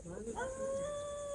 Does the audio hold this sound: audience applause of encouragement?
no